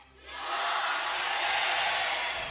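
A large esports arena crowd roars and cheers at the League of Legends World Championship, ahead of a T1 versus C9 game. The broad, sustained wall of cheering swells up after a brief quieter start and stays loud throughout.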